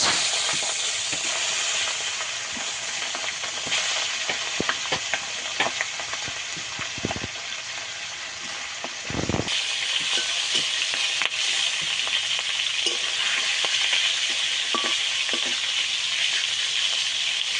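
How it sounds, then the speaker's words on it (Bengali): Hilsa fish heads fry in hot oil in a wok with a loud, continuous sizzle, punctuated by occasional spatula knocks and a louder burst of spitting midway. "মাছগুলো ভেজে নেব। প্রথমে মাথাগুলো ভেজে নেব।"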